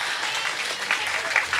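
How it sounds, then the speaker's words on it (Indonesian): An audience at a Tuesday morning religious gathering claps for the village head, a close, continuous wash of clapping with a few louder bursts. "Tepuk tangan dulu dong buat Pak Lurah"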